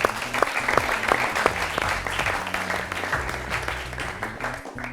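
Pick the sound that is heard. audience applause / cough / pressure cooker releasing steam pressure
audience applause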